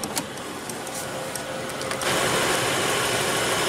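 A 2015 Mercedes-Benz C300 engine idles steadily at close range, its even hum growing fuller and louder partway through with a broad airy wash, no voices present.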